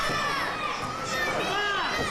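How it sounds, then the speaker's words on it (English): Wrestling crowd at a women's match between Nikki Knight and Violet Payne cheering and shouting steadily throughout, a dense wash of many voices including high children's calls. "The crowd's cheering for Knight to get up."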